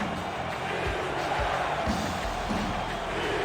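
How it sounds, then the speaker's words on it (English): A football stadium crowd roars for the Dallas Renegades against the Seattle Dragons, a dense steady wash of cheering with scattered thumps and claps that fills the whole span. "This Renegade crowd has gone onto their feet."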